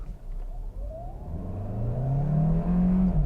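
An all-wheel-drive car with a 6-speed automatic, in sport mode, launches at full throttle, its engine note rising steadily and growing louder as it revs up through the gear, with no talk over it.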